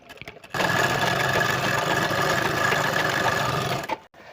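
A sewing machine stitches a sherwani sleeve in one sustained, close run of rapid whirring after a few faint handling taps, stopping abruptly near the end.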